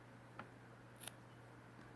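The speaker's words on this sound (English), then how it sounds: "I'll take my scissors and I'll just cut right down the" Scissors make a quick snip through a dry nail polish strip, two short crisp cuts in an otherwise quiet indoor setting with a faint steady hum.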